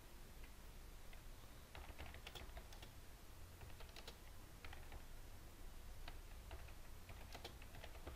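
Continuous typing on a computer keyboard while entering text in Photoshop, with irregular bursts of key clicks over a steady low background hum, moderately close and without any talk.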